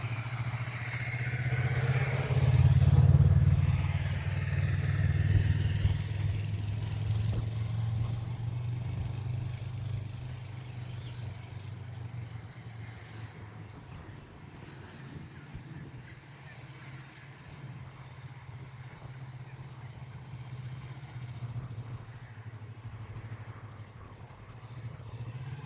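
Motorcycle weaving slowly through a cone course with steady, constant throttle, a low even engine drone that swells slightly early on, then holds level, close and continuous.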